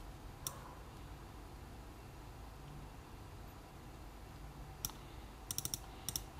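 A handful of faint keystroke clicks on a computer keyboard, one early and a small cluster near the end, over a low steady room hum with no voices.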